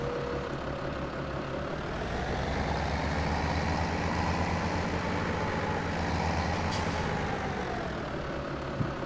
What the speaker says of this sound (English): There's the sound of the motor for you.